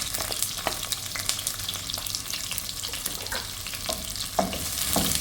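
Onions sizzle in hot ghee with biryani masala for a gongura pulao, a steady close crackle broken by scraping stirs and a few louder spatters, with no voices.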